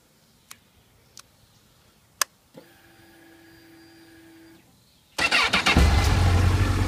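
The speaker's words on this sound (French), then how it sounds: "Démarrage instantané." A 2008 Honda CBF 1000-A motorcycle starts up: a few sharp clicks, then a whirring electric hum from the ignition, a short pause, and the engine catches at once into a loud, throbbing idle.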